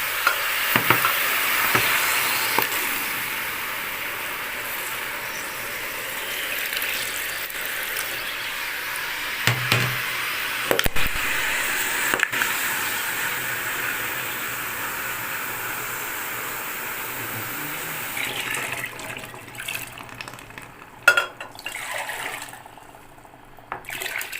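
Quicklime, about 400 grams, fizzes and hisses in water while being stirred for a traditional Hatay pumpkin dessert, a steady close sizzling wash with occasional scraping knocks, quieter toward the end.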